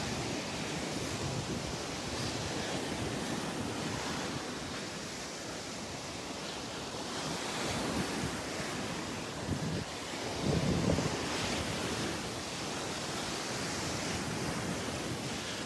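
Gulf of Mexico surf washes steadily along Delnor-Wiggins beach, a continuous broad roar with wind buffeting the microphone and a slightly louder wave surge near the end.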